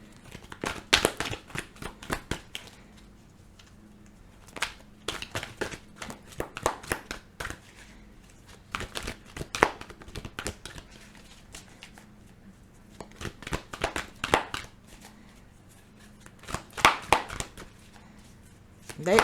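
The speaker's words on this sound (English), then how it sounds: "It's too many cards, so let me finish shuffling." A deck of tarot cards is shuffled by hand in repeated crisp riffling bursts, close and clear, with pauses between rounds while a person talks softly.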